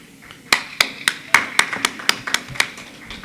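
Scattered clapping at a Brooklyn community board meeting: a handful of sharp, separate claps ringing out one after another in an irregular rhythm, close and fairly loud in a quiet room.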